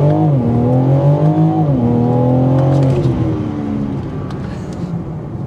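A 2023 BMW M4 Competition accelerating hard in sport mode with active exhaust, its loud engine note climbing and dropping through gear shifts, close and continuous with no talk.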